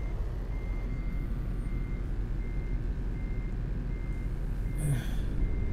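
A reversing truck with a trailer in Euro Truck Simulator 2 gives faint, steady beeps over a constant low engine rumble, ending in a brief higher squeal.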